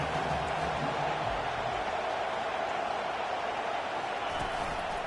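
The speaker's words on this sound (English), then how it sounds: "This crowd bringing the energy and noise early." Steady roar of a football stadium crowd during a Bama vs FSU college game, a continuous loud wash of cheering and noise that fills the whole stretch.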